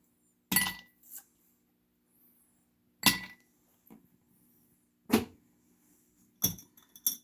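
Ice cubes dropped into a glass, four separate sharp clinks spaced a few seconds apart, close and clear against near silence, each followed by a brief rattle.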